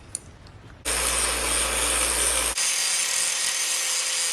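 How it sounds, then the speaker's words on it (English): A power grinder cuts away metal to widen a gap during Ford Fiesta engine work. It starts abruptly as one loud, steady whine, dips briefly partway through, then keeps running to the end. "Off to the grinder."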